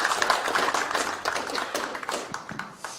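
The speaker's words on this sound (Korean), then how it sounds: "큰 박수 부탁드립니다." Applause from a seated audience greeting a Konkuk University real-estate professor at a political party economic advisory launch event, a dense patter of clapping hands at moderate volume with no voices over it.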